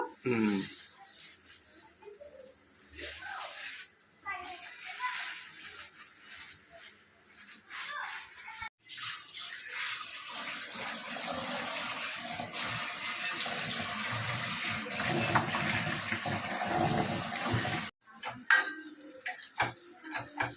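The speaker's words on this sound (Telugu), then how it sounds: "ఇదిగో చికెన్ శుభ్రంగా కడుగుతాము." Raw chicken is rinsed under running kitchen water, a continuous close splashing and trickling with soft knocks and shifts of the pieces, louder and steadier in the second half and broken by a couple of brief pauses.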